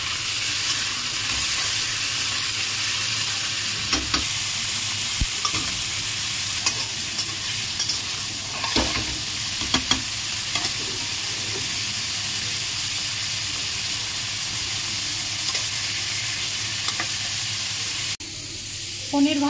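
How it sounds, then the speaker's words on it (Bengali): Cubes of paneer fry in hot oil in a pan for a Bengali paneer and pea curry, giving a steady, close sizzle and hiss with occasional soft pops and stirring sounds throughout. "ভেজে নেব পনিরগুলো।"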